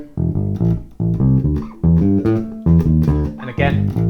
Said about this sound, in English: And then you have this unison line in the middle